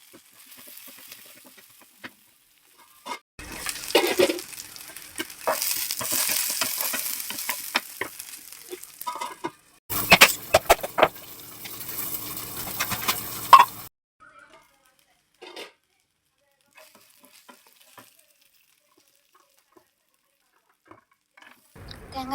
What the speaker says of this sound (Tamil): கொஞ்சோண்டு ஒரு கையளவு தேங்காய் போட்டு நல்லா வதக்கி விட்டுக்கணும்